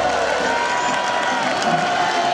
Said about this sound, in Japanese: 皆さん大きな拍手でお送りしましょう